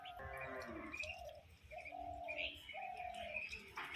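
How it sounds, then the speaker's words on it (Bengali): Domestic pigeons coo nearby in soft, repeated throaty phrases, several calls overlapping over a few seconds, with small high chirps mixed in and no talking. "আমার পায়রাগুলোও চলে এসছে এদের বাচ্চাগুলোকে দেখে"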